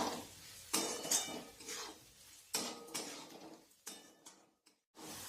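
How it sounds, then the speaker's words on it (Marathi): A spoon scraping and clanking against a pan in repeated strokes while crumbled stale chapati with turmeric and salt is stir-fried, with faint sizzling between the clatters. "आता परत एकदा छान परतून देऊया"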